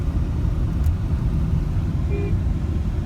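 A Tata Altroz hatchback's engine revs from inside the cabin, a loud, steady low rumble that holds evenly for a few seconds with no talk.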